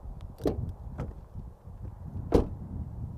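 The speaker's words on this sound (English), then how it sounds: "Door open and close sound from the outside." Honda CR-V Hybrid door opened and shut from outside the car: a soft latch click, a couple of faint thumps and a firmer closing thud near the end, quiet against low background hum.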